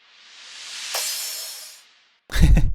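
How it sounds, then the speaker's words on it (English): A crash cymbal in a drum mix with panning effects swells and sustains as a bright hiss, then fades away, followed by a short, dull low thump. "And then I'm gonna do this crash cymbal."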